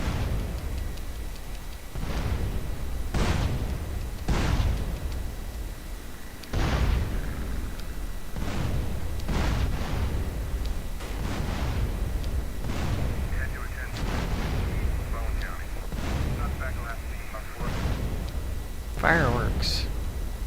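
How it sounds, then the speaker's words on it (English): Fireworks burst repeatedly in GTA San Andreas, a series of loud, booming explosions spaced a second or two apart over a continuous low rumble, with some crackling after a few blasts. "Fireworks."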